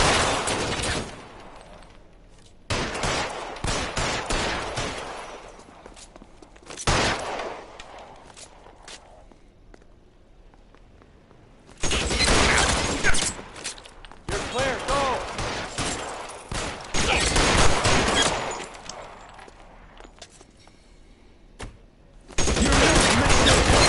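Gunfire in a shootout in L.A. Noire, loud bursts of rapid shots in several clusters separated by quieter gaps, close and harsh.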